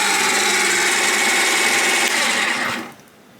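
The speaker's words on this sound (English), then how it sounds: "because of the heat generated by the hole saw, it made the styrene go a bit soft and started to melt it" A hole saw cutting through a HIPS styrene sheet makes a loud, steady, high whine that runs without a break, then stops abruptly as the motor winds down and goes quiet.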